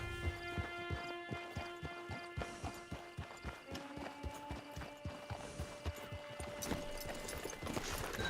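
Steady clip-clop of horse hooves at a walking pace in the video game Red Dead Redemption 2, fairly close, with faint mechanical creaks and background ambience.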